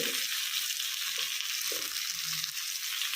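Chilli, turmeric and coriander powders sauté in hot oil in a pan for a tuna curry, giving a steady, close, hissing sizzle with a few soft stirring scrapes and no voices.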